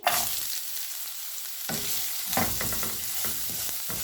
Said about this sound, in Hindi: 1 मिनट तक गाजर को फ्राई करेंगे